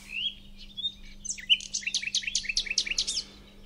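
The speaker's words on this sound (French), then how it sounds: "Écoute les sons de la nature, les oiseaux qui chantent" Small birds singing in a calm natural setting, a few thin rising whistles followed by a quick run of bright chirps and trills, faint and fairly close over a quiet steady hum.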